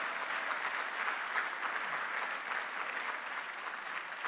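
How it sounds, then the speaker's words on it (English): Applause from an audience at an event honoring an Eisenhower Fellow, a steady wash of many hands clapping at moderate distance, even and sustained with no voices over it. "Give him a round of applause"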